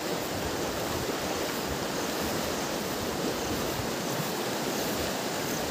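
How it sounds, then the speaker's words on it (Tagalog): Strong sea water rushing and crashing in a continuous loud roar of surf, steady throughout with no talking. "Tignan nyo mga kalahi yung ragasa ng tubig, sobrang tindi yan."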